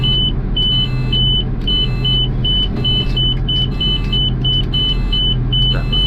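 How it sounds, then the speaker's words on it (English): A garbage truck backs up while its reverse brake jams on, under a heavy idling engine and a loud, repeating high reverse beeper, with a brief jolt partway through. "That was the reverse brake jamming on"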